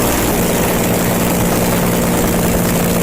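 A loud, steady roar of a real aircraft engine mounted on a motorcycle, with a propeller-like drone, continuous and close, with no voices.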